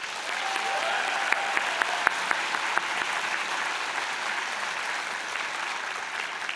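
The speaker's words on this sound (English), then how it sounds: "One more round of applause" Audience applause at a fall convocation ceremony, a dense steady clapping from a large crowd with a few sharper nearby claps, sustained throughout.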